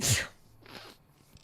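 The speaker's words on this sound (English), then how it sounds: "I sneezed so hard." A single sharp human sneeze bursts out close and loud at the start, followed by a faint breathy murmur.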